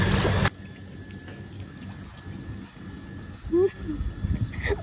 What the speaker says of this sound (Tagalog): Here too much raining.